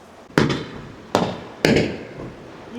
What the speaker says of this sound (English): we are going to see if we can see the fireworks